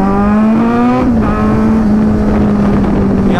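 Superbikes including a Kawasaki Z900 and a BMW 1000 pulling away together on a group ride, a loud, close engine drone whose pitch climbs then settles, with wind buffeting the microphone.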